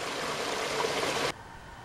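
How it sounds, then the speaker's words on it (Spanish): Pure mountain water runs downhill beside a secondary road in northern Portugal, a steady close rushing stream that cuts off abruptly. "Agua pura que baja del monte"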